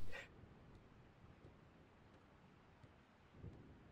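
In a horror video game, rain falls with a low rumble of thunder, a faint soft hiss of rainfall throughout, with a brief louder burst at the start and a dull swell near the end.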